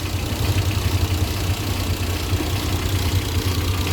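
Suzuki Carry 1000 engine idling up close, a loud steady low rumble with a regular throb and no voices.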